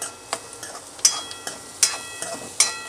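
Washed dal dropped into a pan of hot oil spiced with Kashmiri red chilli powder, giving a sharp sizzle with a run of crackling pops and spatters close by, and no voice.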